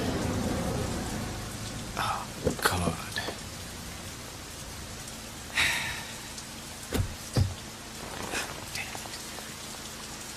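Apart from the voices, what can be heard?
heavy rain in Bombay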